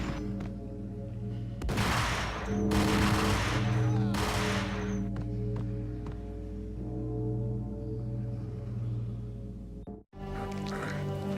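Shotgun blasts in the shooter game Max Payne, several loud broad bursts early on, spaced about a second apart, over a steady droning hum, with a sharp cut near the end.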